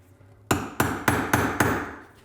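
Five evenly spaced hammer blows drive a chisel into wood to cut a recess while building a custom closet, each strike loud, close and ringing briefly.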